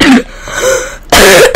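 A man coughs and clears his throat in loud, close bursts, with a brief pause between rough throaty fits.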